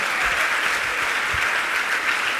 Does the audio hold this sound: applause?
yes